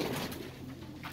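Baku wide-tailed pigeons coo softly in a dovecote, a low, faint, murmuring burble set against quiet ambient noise.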